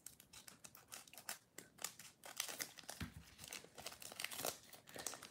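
Scissors cut open the crinkly foil wrapper of a trading card pack, with a busy run of close crackling, snipping and tearing sounds and no talking.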